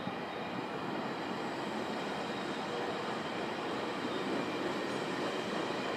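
A GO Transit train rumbles past steadily at Bronte station, a broad continuous roar of wheels on rails with faint metallic squeal, fairly distant and even throughout.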